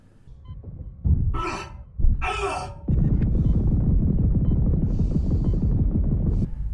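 Isaac's laboured gasping breaths in vacuum in the Dead Space Remake game, two sharp strained gasps a second apart followed by a continuous low rumbling throb beneath faint hum.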